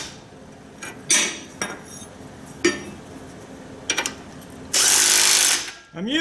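Power tool run in several short bursts on rear shock absorber bolts during a Rancho RS5000X rear shock replacement, with one long loud whir near the end among clanks of tools and parts.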